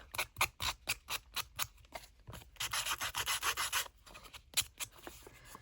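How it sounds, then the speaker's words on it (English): Sanding a craft embellishment coated with ground espresso: a series of short, close, scratchy rubbing strokes in quick irregular rhythm, with a longer continuous sanding pass in the middle, no talking. "And then, of course, sand a little bit off."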